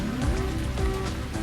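Rain patters steadily on a surface, a dense close hiss of drops with a low hum running underneath, brief and unbroken.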